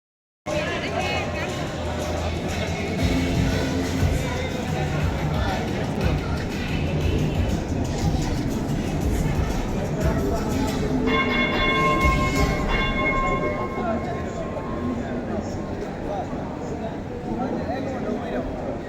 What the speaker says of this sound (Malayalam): അപ്പോൾ ട്രാം അവിടെ നിർത്തി.